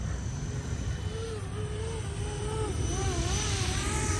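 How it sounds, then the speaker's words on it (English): A small radio-controlled Roban EC-145 helicopter hovers close by on its first flight, its rotor drone steady and continuous with a wavering whine rising and falling over it. "it's just holding its hover perfectly"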